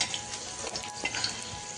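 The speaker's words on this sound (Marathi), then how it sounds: "मिरची पण किती छान भाजली आणि लसण पण बघा आता लाल झालाय" Green chilies and garlic fry in oil on a hot griddle, giving a steady, close sizzle with light crackles throughout and no talking.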